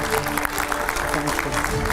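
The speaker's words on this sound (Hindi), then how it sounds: "जोरदार तालियों से स्वागत करिए टीवी 9 के स्टूडियो में" Studio audience at TV9 Bharatvarsh applauds to welcome Arvind Kejriwal and his team: dense, steady clapping from a crowd, fairly loud throughout, with a faint tonal bed underneath.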